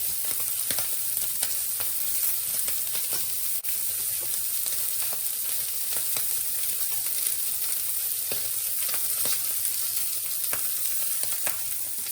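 Prawns sear in a pan on high heat, a constant bright frying hiss with faint crackles running evenly throughout, with no voices.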